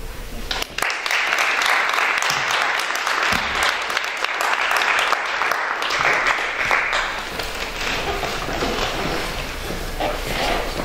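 A crowd at a poetry recitation competition bursts into sustained, dense applause for the competitors, loud and steady for most of the span before easing slightly near the end.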